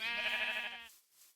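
A single short sheep bleat from Minecraft's SevTech Ages modpack, clear and nasal, lasting under a second and then cutting off to near silence.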